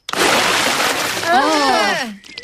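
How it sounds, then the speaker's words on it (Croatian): Cartoon water splashes and sprays as Daddy Pig shakes himself dry after swimming, a loud burst that fades into a voice speaking near the end. "Sad je tata sve zalio vodom."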